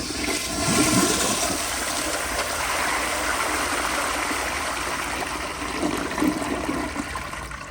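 A 1992 Kilgore Argus toilet flushes in one continuous rushing gush of water, loud and close, with gurgling and trickling throughout.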